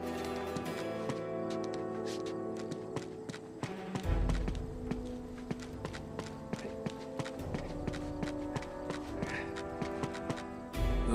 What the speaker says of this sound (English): Now all we need is a horse.